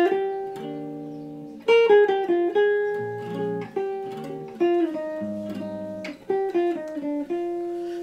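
Solo jazz guitar plays the opening of a song, with clean plucked melody notes and chords ringing and decaying one after another at a moderate, unhurried pace, with no talk.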